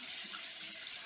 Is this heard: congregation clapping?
no